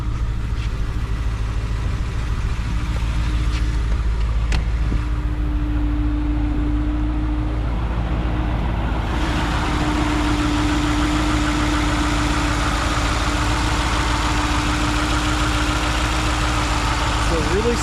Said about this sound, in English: You can listen to it idle. It's got a really meaty lope to it.